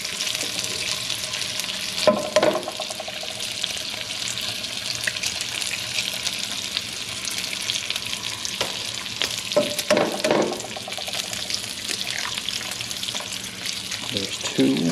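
Four eggs frying in a pan, a continuous close sizzle with a few clinks and scrapes, steady throughout and without talking.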